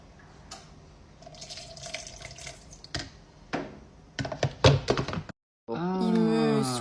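Water runs from a tap into a sink in bursts, with splashing and spattering that stops abruptly, followed by a voice speaking.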